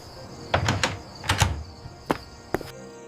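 Doors and windows are shut firmly inside a house at night, a series of sharp knocks and clunks arriving in short clusters, followed by a single final thud.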